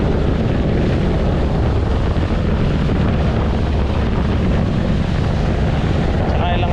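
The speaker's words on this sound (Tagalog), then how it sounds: "Laki ng makina, laki ng durok." Big engine of a passenger boat running at speed on open water, a loud, steady, broadband roar mixed with rushing water and wind buffeting, continuous and close throughout.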